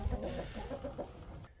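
Chickens and layer hens gathered inside a barn, clucking softly and repeatedly at close range in a brief, steady murmur with no talk over it.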